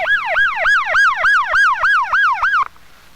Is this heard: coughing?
no